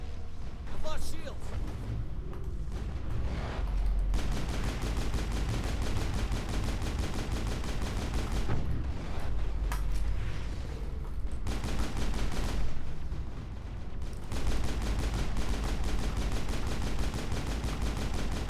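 Turrets being shot down in the video game Mass Effect, with bursts of rapid gunfire and loud impacts running continuously for several seconds and brief pauses between volleys, while someone talks over the action.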